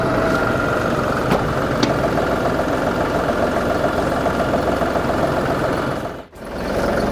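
A tractor fitted with a front end loader idles with a steady mid-pitched diesel chug and a faint knock, with a couple of brief clicks and a short dip near the end.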